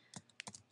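Brief, quiet clicks of keys on a computer keyboard as a web address is typed, a handful of quick taps spread over under a second.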